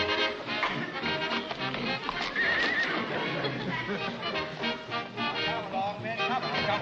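Horses whinny and neigh over a busy background of hooves and movement, with voices faintly mixed in throughout.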